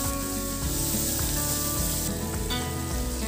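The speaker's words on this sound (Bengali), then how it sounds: "ক্যাপসিকাম কেটে রেখেছিলাম, সেগুলো ভেজে নিচ্ছি।" Chopped capsicum fries in hot oil with a little salt, giving a loud, constant sizzle and crackle that lasts throughout, with faint stirring and no voices.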